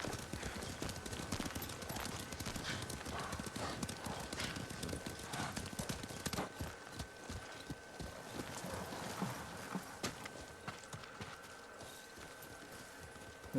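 Horse hooves clip-clop steadily in Ghost of Tsushima, a continuous faint trot of hoofbeats with occasional snorts and faint background game ambience, and no talk over it.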